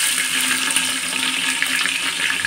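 Three chopped onions dropped into hot oil in a pan for Bengali handi chicken, giving a steady, loud, close hiss and sizzle with no talking.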